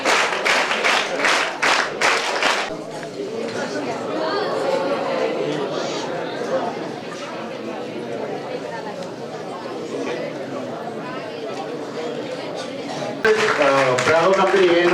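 Crowd applause for winning NCC cadets at a training closing ceremony, heard as a sustained wash of clapping and chatter that runs steadily for most of the stretch, with a voice speaking over it near the start and again at the end.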